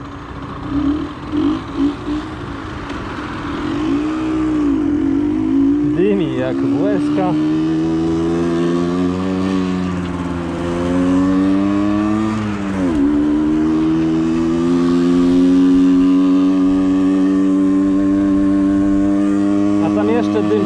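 A Suzuki SMX 50 moped's small two-stroke engine runs and revs loudly up close, its pitch climbing and dipping through several throttle blips over a steady idle, with brief talk at the start.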